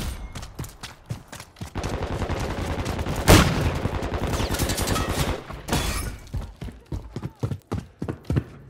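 Rapid M13B assault rifle fire in a Call of Duty MW3 Team Deathmatch match on the Farm 18 map, dense repeated shots with an explosion-like crack midway, mixed with game effects and loud throughout.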